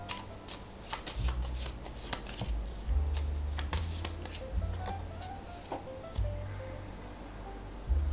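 Tarot cards are shuffled by hand in close, rapid riffling bursts that repeat steadily, with faint background music underneath.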